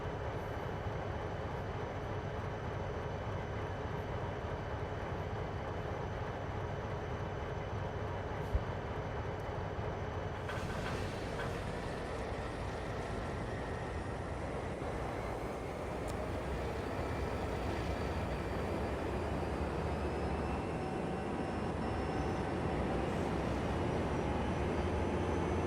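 A video-game train on a snowy branch line rumbles steadily, a broad continuous engine and wheel drone that rises a little partway through, with no talk over it.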